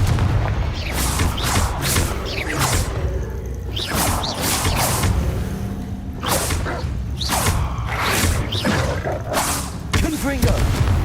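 Confringo fire-spell blasts in the video game Hogwarts Legacy, with a rapid series of loud booming explosions and thuds over roughly eleven seconds, some mechanical creaks and clatter between them.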